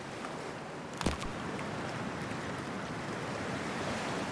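Water in Cyberpunk 2077: Phantom Liberty, a single splash followed by a continuous wash of waves and surf, moderately loud and close, with no voices.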